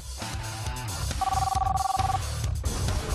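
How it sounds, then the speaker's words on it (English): Prepaid mobile phone ringing with a steady electronic tone for about a second, heard under a loud rhythmic background of music or engine-like pulsing. "an anonymous Frenchman waits for a call on his prepaid mobile phone"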